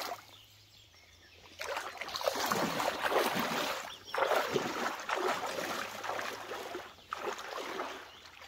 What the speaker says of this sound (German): ich hole das Boot zurück, Leute